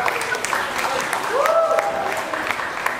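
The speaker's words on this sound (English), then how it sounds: "Please give him a warm round of applause" Warm, steady crowd applause for a musician about to play the Sarawak jatung utang at a world music festival session, a continuous wash of clapping with a faint voice or whistle-like tone rising through the middle.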